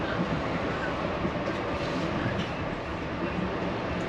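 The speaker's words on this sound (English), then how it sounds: "The train starts to pick up speed after departing Joliet" An Amtrak Lincoln Service passenger train picks up speed after departing Joliet, a steady rolling roar and faint rhythmic clatter of wheels heard from inside the car.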